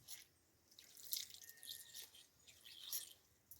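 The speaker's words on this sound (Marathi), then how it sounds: "आता पाणी टाकून धुवायचा" Water poured over a stone grinding slab to rinse it, heard as quiet splashing and dripping in short irregular bursts, close by and faint, with no talking.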